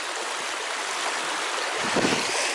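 A stream flowing at a ford crossed on foot on a combe walk in Exmoor, a steady broadband rush of running water close by with a slight swell toward the end, no voices.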